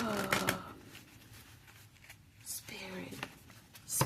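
A quick riffle of a deck of cards being shuffled at the start, then soft whispered talk and another brief card flutter near the end.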